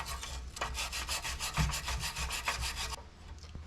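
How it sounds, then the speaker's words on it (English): Wire brush scrubbing the metal sealing surfaces around a heater core opening on a vintage Datsun 521 pickup, a steady run of close, rhythmic rasping strokes that stops near the end. "I'm going to run around the edges, all the places that had like sealing surfaces, and just wire brush them"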